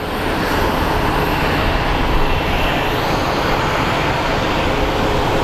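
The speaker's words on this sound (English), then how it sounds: "looks like we have a JSX Embraer getting ready to depart" JSX Embraer 135 ER regional jet preparing to depart from Phoenix Sky Harbor, a steady dense engine roar with a faint high whine, continuous and fairly loud, with no voices.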